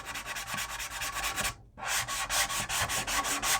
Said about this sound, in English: the sand scratches in that direction, and then change directions, go across the other way